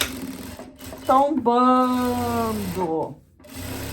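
A sewing machine stitches a blouse neckline in short runs, its buzzing whirr heard under someone speaking Portuguese nearby.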